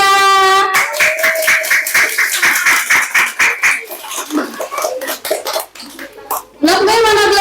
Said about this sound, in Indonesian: Tepuk tangan dulu dong untuk blok A.